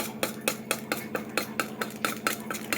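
A spoon stirring a mixture in a bowl, about a dozen regular scraping strokes in a steady rhythm, close and fairly loud.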